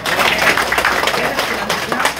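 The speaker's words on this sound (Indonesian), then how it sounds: "Tepuk tangan dulu untuk kita." A crowd at a labor union protest in Kampar, Riau, Indonesia, claps in a dense, steady patter of applause, fairly loud and continuous, with no voices standing out.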